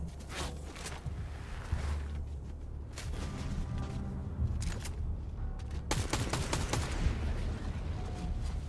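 Shotgun blasts in a Fortnite firefight ring out as sharp, loud repeated reports with dense bursts near the start, middle and end, over constant game background noise.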